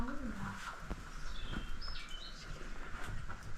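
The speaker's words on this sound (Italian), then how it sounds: "Sento un uccellino" A small bird chirps inside a cave: a few faint, brief high tweets scattered over a steady, hollow background hiss and low rumble.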